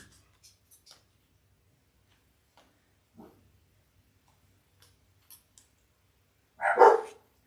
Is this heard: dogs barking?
yes